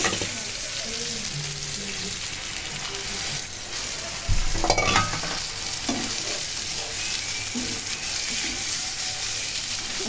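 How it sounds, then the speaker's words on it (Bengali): Eggs are stirred and fried in a spice masala for egg curry, giving a continuous sizzle with scraping stirs and a louder clatter partway through. "এখন আমি এই যে ডিমগুলো দিয়ে দিলাম এখন একটু ভালো করে কষিয়ে নিয়ে"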